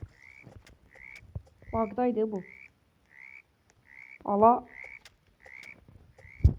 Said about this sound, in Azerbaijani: Qurbağa səsləri.